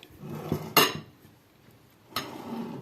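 A few close metallic clinks of a spoon against a frying pan over low heat as a mixture is spooned in, separated by quiet pauses, with soft scraping between them.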